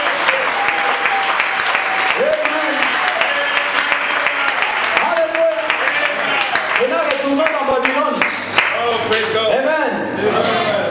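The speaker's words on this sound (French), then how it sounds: "donnez-moi l'acclamation pour Dieu" A church congregation in Cameroon applauding and shouting praise, dense continuous clapping mixed with excited voices and exclamations throughout.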